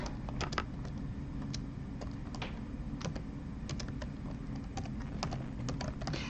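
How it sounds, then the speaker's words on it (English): Close keyboard typing, irregular sharp clicks of keys tapping over a low steady background hum. "I'm typing this out."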